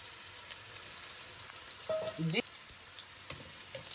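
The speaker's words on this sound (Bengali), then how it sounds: "এখন তেল দিচ্ছি জিরা দিচ্ছি" Cumin seeds frying in hot oil make a soft, steady crackle with scattered pops and a brief clatter partway through, fairly quiet overall, with no talking.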